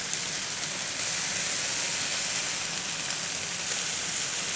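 Boneless skinless chicken breasts searing on a grill give off a steady, close sizzle with a broad hiss that holds evenly throughout, with no talking.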